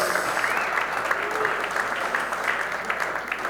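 Spectators at a professional 9-ball pool tournament applauding a shot, a steady wash of clapping from a sizable crowd with a commentator talking over it.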